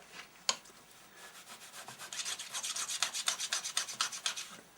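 A cloth rubbing briskly over an engraved surface to wipe off crayon filling the grooves, building into a steady run of close, rhythmic scrubbing strokes after one sharp knock.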